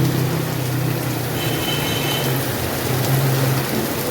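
Heavy rain pours in a dense, steady hiss with no break, close and loud throughout.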